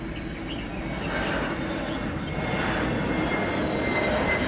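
An IndiGo passenger jet flying low near Kempegowda International Airport in Bengaluru, heard from a railway station, with a broad steady engine roar that builds slightly and stays loud throughout, no talking.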